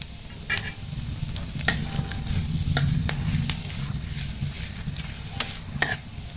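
Whole cumin seeds, bay leaf and dried red chili frying in refined white oil in a wok: a steady soft sizzle with scattered crackles and a few sharp stirring scrapes, close and alone.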